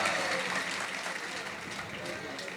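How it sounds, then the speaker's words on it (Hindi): Audience applause at an all-India Urdu poetry mushaira in Kamthee, Nagpur, a dense steady clapping from a crowd that carries on for the whole stretch, loud and close with no pauses. "तालियां बजाकर मोहतरमा की हौसला अफजाई कर दीजिए थोड़ा।"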